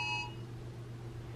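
A phone emergency Amber Alert sounds as a single short, shrill electronic beep right at the start, then cuts off, leaving a quiet steady low hum with no speech.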